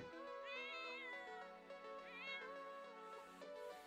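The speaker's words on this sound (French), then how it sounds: "Non, c'était le chat." A cartoonish cat in The Sims 4 gives two drawn-out, rising meows close up, with a soft backing of game music and no talking.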